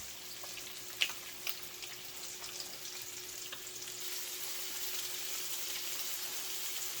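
Crappie fillets frying in a pan of hot oil, a steady soft sizzle with a couple of small pops near the start, close and fairly quiet.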